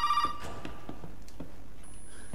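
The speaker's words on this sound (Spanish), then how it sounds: "A ver, nos llaman por teléfono, espera." A telephone rings in the Resident Evil 7 video game: a short electronic tone opens, then faint, evenly spaced ring pulses follow over steady background noise, with no talking.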